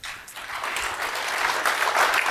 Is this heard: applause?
yes